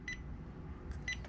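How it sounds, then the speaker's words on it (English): A battery management system on a homemade LiFePO4 battery built from cheap cells gives two short, high electronic beeps when switched on, separated by a quiet pause over faint background hum. "I always panic whenever I hear that last beep, thinking that something's gone wrong."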